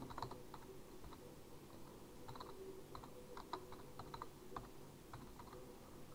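Faint, fairly quick keystrokes on a computer keyboard, clicking irregularly throughout against a low, steady room noise.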